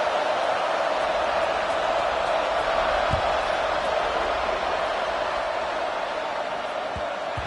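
Stadium crowd in NCAA Football 26, a steady broad roar of cheering fans at a college game, continuous and fairly loud with no distinct individual voices standing out.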